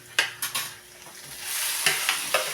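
Ginger dropped into a hot pan, sizzling steadily as a utensil stirs it in a few distinct scraping strokes, close and moderately loud, with no talking.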